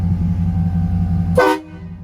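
A loud, sustained low train horn mounted on a truck blasts with steady droning tones, cut off abruptly by a brief sharp hiss near the end.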